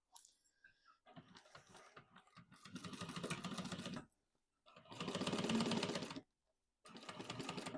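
A sewing machine topstitches a slip pocket lining on a messenger bag in several short bursts with silent pauses for pivoting. Each run is quick, rhythmic and close, with no talking.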